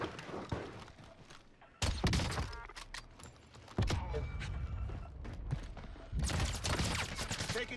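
Gunfire in Call of Duty Warzone on Rebirth Island, an MP40 among the weapons, sounding as scattered distant shots followed by sudden loud close bursts of rapid fire that recur through the stretch.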